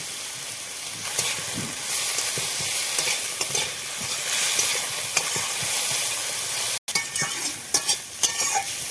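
Boiled greens fry in a pan and are stirred, making a steady, close sizzle broken by soft scraping and clacks of the spoon, with one brief dropout.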